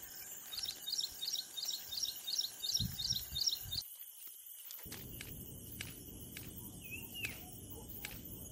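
Rapid repeated bird chirps, including bushlarks, sound steadily over a buzzing insect background, with soft rustling steps partway through and scattered calls afterward.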